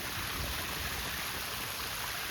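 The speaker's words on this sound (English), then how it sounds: "Look at these stairs, guys. They turned into a whole waterfall right here." Floodwater from a storm pours down a flight of stairs like a waterfall, a loud, steady roaring rush that fills the scene without pause and without voices.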